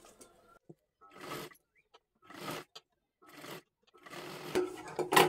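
A domestic sewing machine runs in short repeated bursts while double-stitching a sleeve onto a dress made from a saree, each whirring run separated by brief pauses, close and moderately loud.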